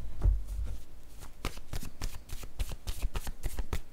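Oracle cards being shuffled and drawn give a run of quick, crisp riffling flicks and soft card slaps, close and fairly quiet, in an irregular rhythm.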